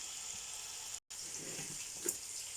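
Prawns coated in oil sizzle in a pan over medium heat, a steady, quiet crackling fry that runs throughout with one brief dropout and a small pop near the end.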